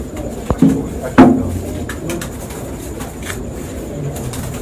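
Pigeons from Dubai in a Pindi loft give faint low coos over a steady background hum, broken early by two sharp close knocks or wing flaps.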